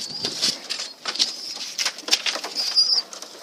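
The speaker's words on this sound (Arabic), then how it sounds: "وعلى بركة الله توكلنا لي نطير الحمام" Pigeons released from a loft tower take flight, their wings flapping in quick fluttering bursts that rise and fade over a few seconds. The flock is fairly close, with no voices.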